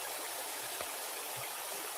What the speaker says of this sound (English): This is how he's filling the pond.